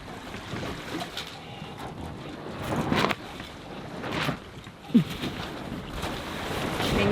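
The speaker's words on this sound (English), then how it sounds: "as we close out the day, we have the wind." Wind and sea wash around a sailboat running downwind, a steady rushing bed of noise with a few louder gusts and splashes swelling and fading.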